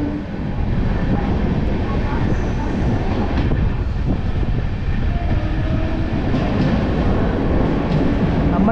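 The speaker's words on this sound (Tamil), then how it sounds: "நம்ம ட்ரெயின் பார்த்தீங்கன்னா வடகோவை அப்படிங்கிற ஸ்டேஷனை ஸ்கிப் பண்ணி போயிட்டு இருக்குதுங்க" A Jaipur SF Express sleeper-class coach rolls along at speed between Coimbatore and Chennai, passing a small station without stopping, with a loud, steady rumble and clatter throughout.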